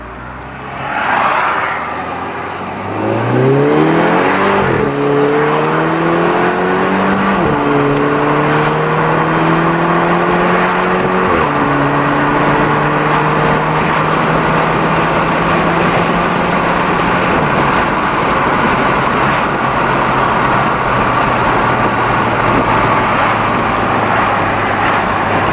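A car accelerates hard while having its dirt blasted off, engine revving up through several gear changes before settling into a steady loud drone with heavy road noise, close and alone with no talk.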